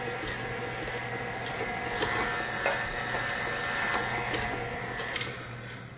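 Electric mixer beating oatmeal cupcake batter in a bowl, a steady close mechanical whir with a constant motor hum and a faint rattle of beaters against the bowl, running throughout and easing off at the end.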